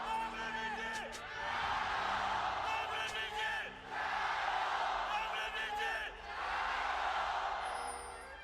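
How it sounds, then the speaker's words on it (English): A riled-up arena crowd cheers for Weibo Gaming at an LPL Summer 2023 playoff League of Legends match against LNG, roaring in loud, swelling waves with shouts and yells, a voice running through it. "Very riled up crowd for game number 1."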